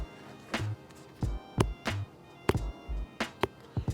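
The rubber heel tab of an Air Jordan 4 sneaker is tapped and flicked, giving about eight soft, close, dull taps at an uneven rhythm over a quiet background.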